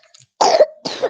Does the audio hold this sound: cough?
yes